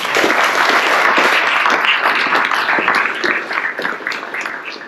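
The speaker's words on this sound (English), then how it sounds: "Can we get a big round of applause for that?" A big round of audience applause at a military change of command ceremony, dense continuous clapping that stays loud and steady before thinning slightly toward the end.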